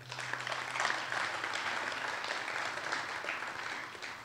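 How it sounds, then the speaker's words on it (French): Audience applause at the launch of a jazz festival in Ouagadougou, a steady, moderately quiet roll of many hands clapping that holds evenly for several seconds without a break. "Et applaudissez donc pour ce festival."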